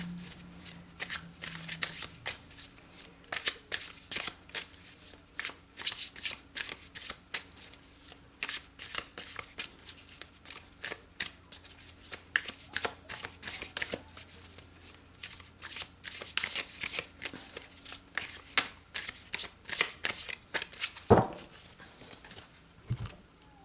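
Tarot cards being shuffled by hand, a steady run of crisp riffling and sliding card flicks close up, continuing almost throughout with short pauses and a louder rustle near the end.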